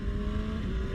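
Revving engine of a 2023 Kawasaki Ninja ZX6R 636 motorcycle with a quick shifter, a steady close drone that swells slightly at the end, with wind noise over it.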